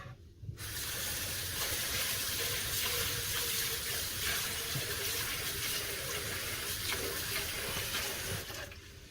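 Long grain white rice being washed in water, with a steady, close rushing of running water and splashing that continues throughout, no voices.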